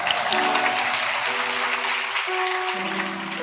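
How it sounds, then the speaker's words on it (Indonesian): A church congregation applauding during a sermon, with a dense, steady wash of clapping that tapers slightly at the end, mixed with some sustained musical tones underneath. "yang merasa cakep tepuk tangan untuk Tuhan"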